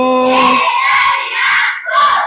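A group of schoolchildren in a classroom shouts a loud, energetic cheer in unison, with a sustained burst followed by a few shorter repeated shouts.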